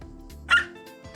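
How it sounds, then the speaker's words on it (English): A single loud, close dog bark bursts out briefly in the middle of a quiet moment, with a faint whimpery tone around it. "You gotta stop with the loud barks."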